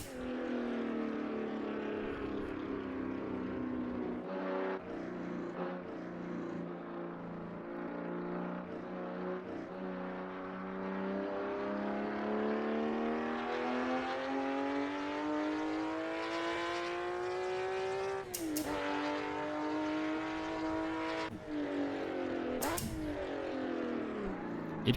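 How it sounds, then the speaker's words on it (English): A Porsche flat-six engine in a racing video game drones steadily, its pitch slowly climbing with a couple of brief shifts, rough and raspy intake but fairly quiet throughout. "That is an intake of a flat 6 engine."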